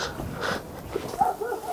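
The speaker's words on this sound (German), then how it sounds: "Jetzt bellen die Hunde, das ist kein gutes Zeichen hier." Dogs bark and yip in the distance outdoors, a few short scattered calls over faint background rustle.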